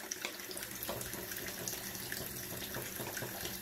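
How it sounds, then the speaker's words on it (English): Hot water pours from a tap onto a towel during a straight razor shave, a steady, moderately close splashing rush that keeps going throughout with no talking. "I've been having hot water running on my towel"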